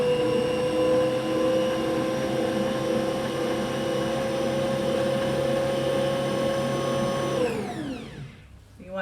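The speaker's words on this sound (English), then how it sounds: "So I'm going to turn on the mixer now with the whisk to just mix everything together." Electric stand mixer with whisk attachment mixing ka'ak dough, a steady loud motor whine with a constant pitch that winds down smoothly to a stop near the end.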